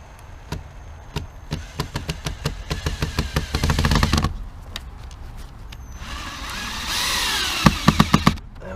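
A power drill drives 4-inch wood screws into a wooden fence in a string of sharp, rapid bursts, then a steadier whirring stretch and a final few quick stuttering hits, close and fairly loud, with no talk.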